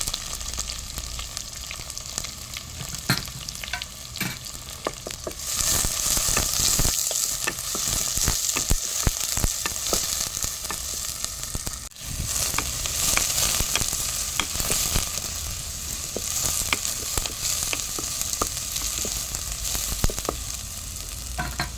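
Sliced onion and curry leaves frying in a pan for a home-style chicken curry give a loud, dense sizzle that runs throughout, broken by frequent scraping and stirring clatter up close, with no speech.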